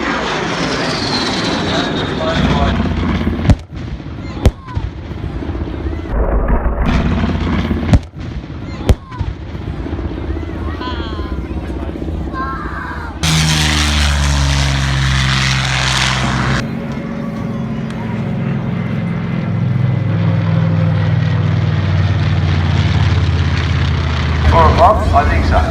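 A warbird roars past at the Central Coast air show, its loud engine drone rising and falling while an announcer talks over a public address and sharp cracks and bangs punctuate the first half.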